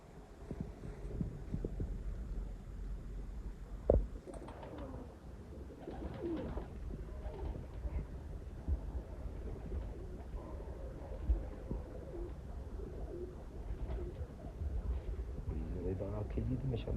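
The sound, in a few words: low-flying pigeons cooing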